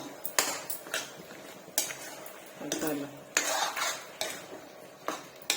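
A spoon scrapes and clatters against a pan in several bursts of stirring chicken curry, with a soft background hiss and no talking.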